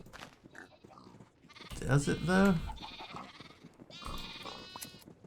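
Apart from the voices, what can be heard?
sheep bleating in video game Minecraft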